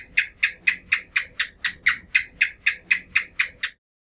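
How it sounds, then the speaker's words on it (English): A lizard gives a rapid series of about fifteen evenly spaced clicking chirps, loud and close, before it stops abruptly into silence. "You heard a lizard."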